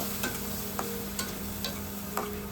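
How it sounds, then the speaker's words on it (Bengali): Boiled potato mixture stirred into fried spices in a pan, giving faint, intermittent scraping strokes roughly every half second over a low, steady sizzle of oil. "সেদ্ধ আলু সেটার খানিকটা অংশ এখানে ঢেলে দিব এবং মশলার সাথে মিশিয়ে নেব"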